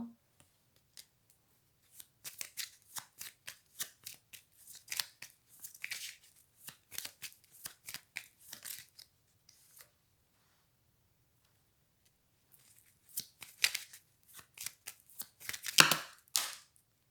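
Tarot cards being shuffled by hand in bursts of crisp riffling and flicking, two clusters of close, fairly quiet card noise separated by a pause.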